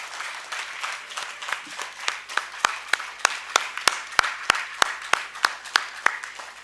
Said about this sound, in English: So I would request all the audience to have a loud applause to the leaders present here.